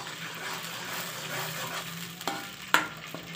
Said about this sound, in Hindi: टमाटर के पेस्ट को हम अच्छी तरह जो है वो फ्राई करेंगे।